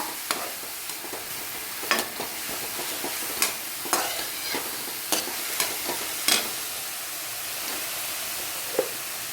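Onions sauté in a pan for egg masala thoran, a continuous soft sizzle and hiss with scattered sharp clinks and scrapes of a spoon stirring against the pan.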